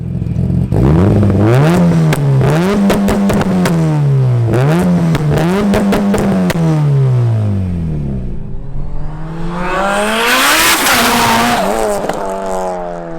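A sequential-gearbox Mitsubishi Evo 9 tuned to 1000 wheel horsepower accelerates hard and very loud, its engine climbing and dropping through rapid gear changes with sharp pops between shifts, then building again into a raspy high-revving roar.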